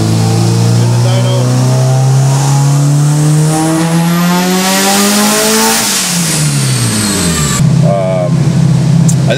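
A car engine on a dyno revs hard and climbs steadily in pitch for several seconds, then drops off abruptly and settles back toward idle, loud and close.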